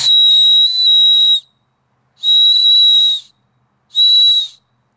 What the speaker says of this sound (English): It's a very practical whistle.